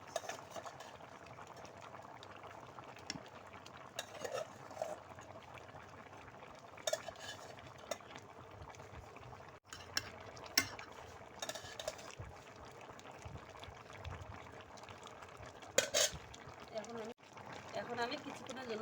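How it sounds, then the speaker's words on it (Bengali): Fried fish stirred into a raw plantain curry in a pan, quiet bubbling with clinks and scrapes of a utensil against the pan and speech over it. "এখন ভাজা মাছগুলো দিয়ে দিব।"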